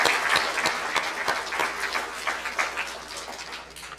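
At a Nolin RECC meeting, the crowd gives a hand for the Operation Roundup charity program, a moderate, steady round of clapping from many people that gradually thins out over a few seconds.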